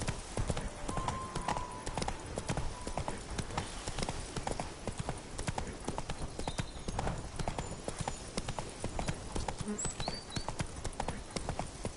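Horse hooves clip-clopping in The Witcher 3, a steady, quick rhythm of hoofbeats that continues throughout under a dense, noisy in-game ambience.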